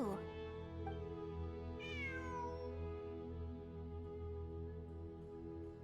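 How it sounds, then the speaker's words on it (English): A cat meows in Genshin Impact during the Fieldwise Center ruins exploration event: one drawn-out, clear meow rises near the start over a steady, droning game soundscape that carries on to the end. "It really is a cat."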